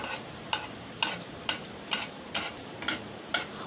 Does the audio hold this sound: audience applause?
no